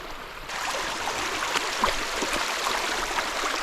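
A fast-flowing woodland stream along a hiking trail rushes steadily and close by, a dense broadband hiss of churning water with small splashes throughout.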